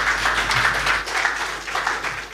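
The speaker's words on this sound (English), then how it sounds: "A round of applause for her." A conference audience applauds in a dense, continuous patter of many hands clapping, fairly near and steady for a couple of seconds with no voices over it.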